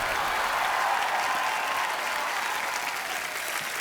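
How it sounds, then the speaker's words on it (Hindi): A studio audience on a comedy talk show breaks into loud, sustained applause welcoming a Punjabi superstar guest, a thick even wash of clapping and faint crowd noise that barely dips over a few seconds. "आप सबकी जोरदार तालियों के बीच"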